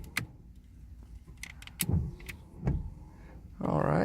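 Windshield wipers on a Honda Civic run at middle and high speeds, giving a few separate mechanical swishes and thumps at close range, then a louder steady motor whir at the end.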